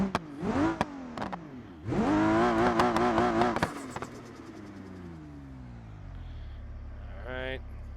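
A Barra-swapped wagon's engine in BeamNG.Drive revs up through rising pitches, with a loud surge midway, then winds down to a low idle-like drone and a final brief rev.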